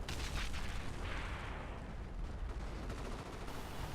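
Continuous gunfire in a strategy video game as infantry rifle squads shoot at a machine-gun nest under construction, a dense, steady rattle and crackle of shots throughout, fairly faint in the mix.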